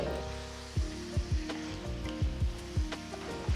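Chicken for a Kerala-style chicken stew sizzles steadily in a kadai while a spoon stirs it, scraping against the pan in a loose rhythm of distinct strokes over the continuous frying hiss.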